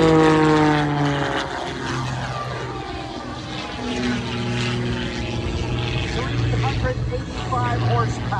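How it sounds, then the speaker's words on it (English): A 385-horsepower propeller engine drones loudly as a lightweight MXS aerobatic airplane performs at an air show in New Hampshire, its pitch sliding as it maneuvers, with an announcer talking over it. "385 horsepower, powering this very lightweight MXS"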